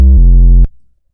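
Custom 808 rack in Ableton Live sounding a single deep sustained 808 bass note, loud and close, cut off abruptly after about two thirds of a second and followed by a faint decay.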